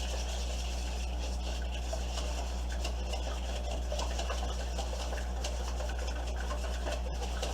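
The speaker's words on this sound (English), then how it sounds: "we're going to whisk up our eggs" Eggs whisked in a bowl for brownies, a steady, continuous rapid rubbing and scraping with a low hum beneath it, even in loudness throughout and with no talk.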